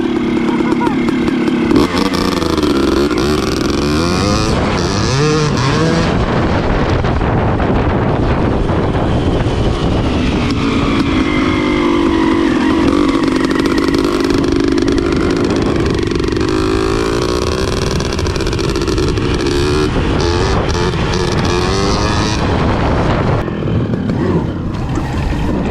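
A carbon fiber dual sport electric motorcycle, a Denzel Samurai, whines steadily as it is ridden, rising and falling in pitch against loud wind buffeting, with a rider talking over it.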